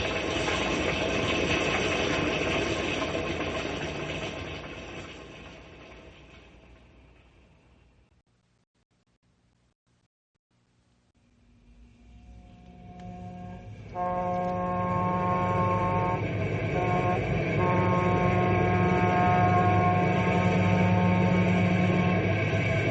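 Train engine sound effect in an old-time radio drama, a loud rumbling locomotive that fades to near silence, then returns with a sustained whistle-like horn chord and steady mechanical chugging.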